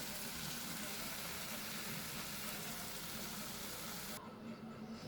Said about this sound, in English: I will saute it for another 2 minutes over high flame.